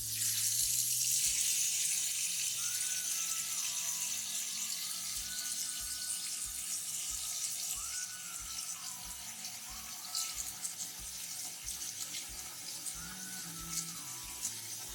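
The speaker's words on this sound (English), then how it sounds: "And we are going to add water." Tap water runs steadily into a pot of dried garbanzo beans, a continuous hissing splash lasting the whole stretch, with light clinks and kitchen sounds underneath and no talking.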